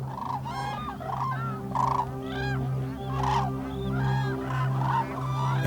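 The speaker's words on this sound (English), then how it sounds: "Last year, Dawa came upon this black-necked crane as she was grazing her cows" A black-necked crane on the Tibetan grassland gives a series of loud, repeated trumpeting calls in uneven bursts over a steady low hum, with no voices.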